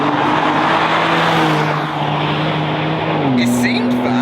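A loud engine of an €87,000 car drones at high revs while it speeds along a race track, the pitch dropping as it shifts, with a person talking over it.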